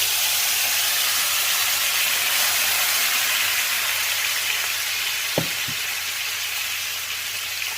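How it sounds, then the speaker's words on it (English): Steady, loud sizzling hiss of melted butter in a cast iron skillet with a ribeye steak, continuous throughout with a couple of faint clinks near the end. "I'm going to go ahead and pour this into the cast iron skillet."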